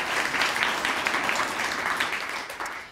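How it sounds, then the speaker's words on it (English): Audience applause for a poetry reader at a Poetry Out Loud recitation event, a steady sustained clapping from a crowd that holds evenly for the full few seconds with no voices over it. "First, Meva Ordaz, if you can give her a round of applause."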